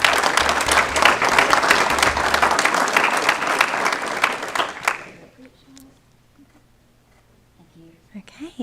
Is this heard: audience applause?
yes